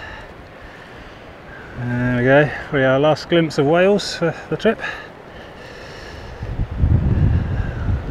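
Wind buffets a microphone on the exposed clifftop at Mort Point on the South West Coast Path, a steady roar that swells into a heavy low gust near the end, with someone talking over it midway.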